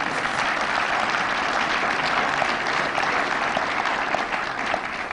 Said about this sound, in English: I think that's a good one to clap to